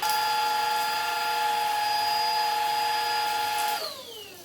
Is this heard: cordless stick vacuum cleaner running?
yes